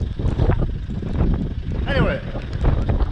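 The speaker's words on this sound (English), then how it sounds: "It's bloody windy up here" Strong gusts buffet the microphone at Malham Tarn, a steady roar of wind rumble lasting throughout, with a brief whistling tone midway and no clear voices.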